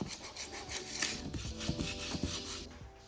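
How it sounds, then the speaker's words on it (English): Putty knife scraping dried paint off a floor, a close, raspy rubbing and scratching made of short repeated strokes, heard alone. "I went in with my clean putty knife and scraped off all of the paint I had gotten on the floors."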